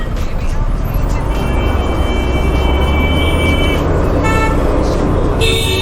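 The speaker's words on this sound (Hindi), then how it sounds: "ट्रैफिक मिल रही है, और ट्रैफिक मिलने का एक ही मतलब है, हम पुणे में एंटर हो रहे हैं।" Dense road traffic on the approach into Pune, heard riding a TVS Jupiter scooter: constant loud engine and wind roar with repeated car and bus horns honking at intervals, some long and some short toots, close around.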